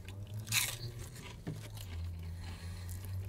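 A close, loud crunchy bite into Popeyes fried chicken, one sharp crackling burst followed by quieter chewing, with no talking.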